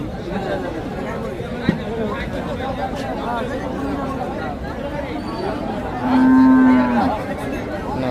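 Cattle and bulls at a rural livestock market (Paragram haat) selling Qurbani and farm bulls, with a clear low moo rising near the end over steady crowd chatter and people talking throughout.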